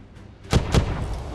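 Two quick booming ship cannon blasts in the video game Warships Mobile 2, each a heavy thud, fire about a quarter second apart against a low background rumble.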